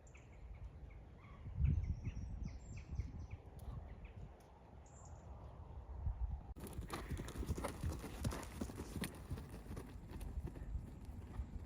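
Faint rhythmic hoofbeats of a ridden horse moving at a steady pace outdoors, with birdsong and light background noise around them.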